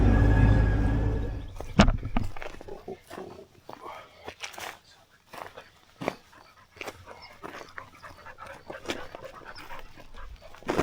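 A dog pants close by in quick, uneven breaths, with scattered soft clicks and footsteps and a brief muffled sound at the start.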